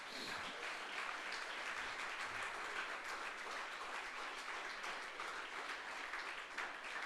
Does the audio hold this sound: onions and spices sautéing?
no